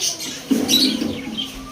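A few short chirps from lovebirds and parakeets and a soft cooing call sound close by, brief and scattered.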